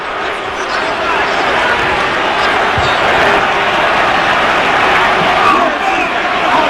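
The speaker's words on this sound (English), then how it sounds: "And the crowd livid at the Palace." A packed basketball arena crowd at the Palace in Detroit roars in a loud, continuous wash of agitated noise after a Pistons home loss to the Nets in the 2003 playoffs, with a commentator talking over it.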